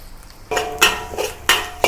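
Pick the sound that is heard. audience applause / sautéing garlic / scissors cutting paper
sautéing garlic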